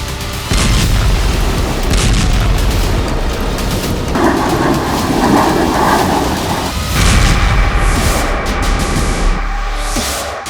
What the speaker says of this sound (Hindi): ये वीडियो है एक ऐसी बमबारी का जो एर्दोआन के लड़ाकों को ताकत देगी।